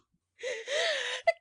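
A voice actor imitates a dramatized gasp from the Duchess in an audiobook of Lewis Carroll's Alice's Adventures in Wonderland. The gasp is a drawn-in, breathy voiced intake in two parts, then a sharp brief burst as the sneeze begins.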